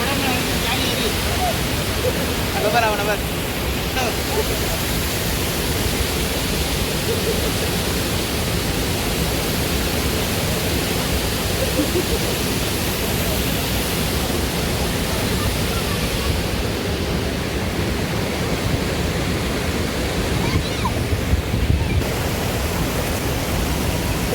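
Water rushes steadily at the Balmuri and Yedamuri waterfalls, a constant broad hiss and roar that holds at an even level throughout, with faint background voices now and then.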